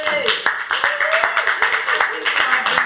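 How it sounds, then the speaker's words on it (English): Pub audience at a talk show gives a round of applause, steady close clapping with a rhythmic, pulsing quality, while voices keep talking over it. "Give yourselves a big round of applause"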